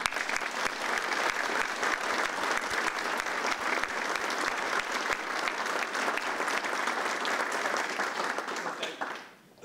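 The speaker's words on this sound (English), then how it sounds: "So please join me in a round of applause for Debbie Zinni and for all of our military" Sustained audience applause in a military hall, dense even clapping lasting nearly ten seconds before cutting off abruptly at the end.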